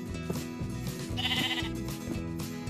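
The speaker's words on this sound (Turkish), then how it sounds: "Rengarenk koyunlar çıktı." Sheep bleat in the video game Minecraft, giving several short, wavering calls one after another. Light game background sound plays under them, and no one speaks.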